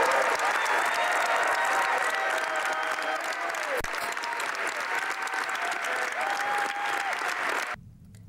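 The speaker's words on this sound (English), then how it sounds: "He was welcomed into the House of Commons Monday with a roar of applause." Dense, sustained roar of applause from members of the House of Commons welcoming the Leader of the Opposition, steady and full, with some voices mixed in before it cuts off.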